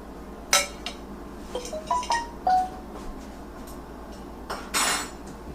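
A metal spatula scrapes and clinks against a cake pan while lifting pieces of homemade peach dump cake, several short separate clanks and taps spread over a few seconds in a quiet kitchen.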